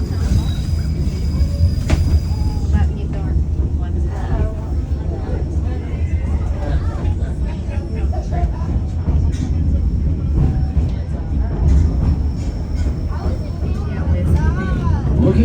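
The White Pass and Yukon Railroad train climbs a steep mountain grade in Skagway, Alaska, giving a loud continuous rumble of wheels and cars with faint squeals. A guide's voice narrates over it throughout.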